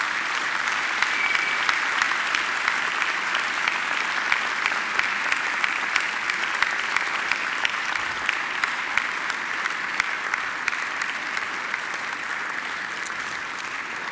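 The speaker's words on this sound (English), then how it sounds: "give them a mighty round of applause in thanks" Graduates at a Macquarie University graduation ceremony give their family and friends a long, steady round of applause, a thick wash of many hands clapping at once that carries on without pause.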